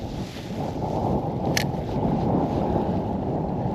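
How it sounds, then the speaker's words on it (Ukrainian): Steady strong wind on the Dnipro River in Kyiv roars across the microphone in a low, continuous buffeting rumble, with a brief faint high hiss partway through. "Доволі сьогодні вітряно."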